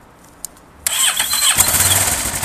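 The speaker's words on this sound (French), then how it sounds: "donc mise en route du moteur." A motorcycle engine cranks and catches, then runs on at a steady idle close by, loud after a brief quiet start, with no one talking.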